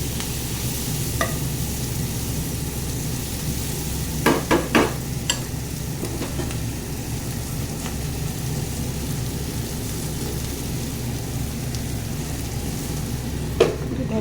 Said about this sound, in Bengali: এটাকে একটু আস্তে আস্তে নাড়াচাড়া করে নিচ্ছি বন্ধুরা।